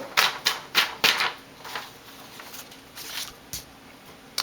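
A Paper Mate EraserMate pen eraser rubbing out ink on paper: a run of quick scratchy strokes, sharp and close at first, then softer and more scattered, with brief pauses between bursts and no talk.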